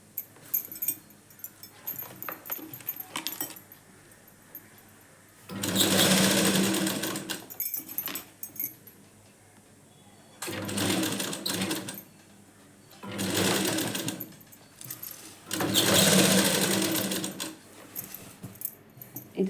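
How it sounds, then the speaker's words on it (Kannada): A sewing machine stitches a readymade churidar dress during an alteration. It runs in several loud, steady buzzing bursts of a few seconds each, with quieter handling noises and pauses between them. "ಸ್ಟಿಚಿಂಗನ್ನು ಮಾಡ್ಕೊಳ್ತೀನಿ"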